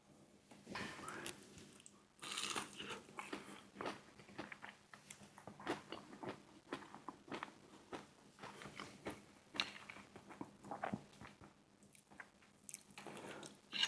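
KFC potato nuggets with gravy being eaten up close, with a run of moist crunching and chewing bites in irregular bursts, fairly quiet with no talking.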